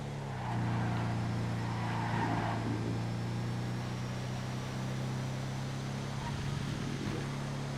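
Steady engine drone of a car racing in GTA FiveM, a sustained hum and whine that rises slightly and holds, with someone talking over it.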